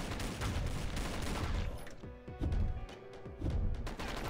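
Rapid gunfire from the zombie-defense game Dead Ahead: Zombie Warfare, dense bursts of shots and impacts layered with game music and effects, loud and continuous throughout.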